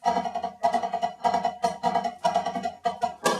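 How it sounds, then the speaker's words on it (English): A fast, continuous snare drum pattern of rapid strokes and five-stroke rolls with inverted sticking, played up close with accents marking each group. "It uses an inverted sticking at the end."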